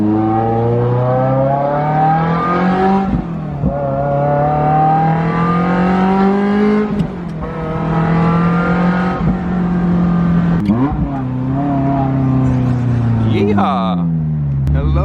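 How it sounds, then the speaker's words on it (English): A Ferrari F355 with a fully straight-piped exhaust accelerating hard, a loud raw engine note climbing through the revs in repeated pulls, each rising tone dropping at the shift and climbing again. "One last little acceleration."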